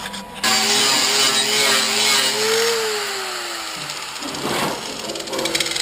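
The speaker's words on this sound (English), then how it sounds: "just a few quick hits with a 60 grit flap disc, how quickly it levels that bead right off of there" Weld bead on a steel panel ground down with a 60 grit flap disc on a grinder, a loud whining spin-up that holds steady, then dips and resumes with rough scraping bursts of disc against metal.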